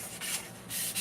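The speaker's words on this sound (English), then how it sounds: "Giving it a good sand down. Sanding up my cane." Sandpaper rubs back and forth over a wooden cane in short, rasping strokes, a close, dry scratching that rises and falls with each pass.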